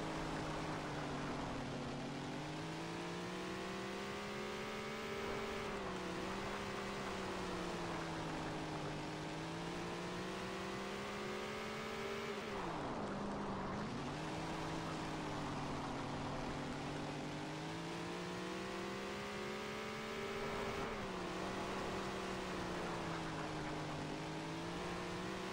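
Dirt track race cars run around the track in a steady, continuous engine drone that rises and falls as they pass, loud and unbroken throughout.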